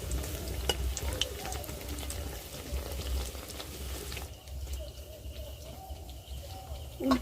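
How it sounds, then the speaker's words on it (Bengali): Onion fritters (piyaji) fry in oil over a very low flame, giving a faint, continuous sizzle with occasional soft stirring clinks and distant bird calls. "খুব কমে জালে ভাজতে হবে পেঁয়াজিগুলো, নয়তো পুড়ে যাবে।"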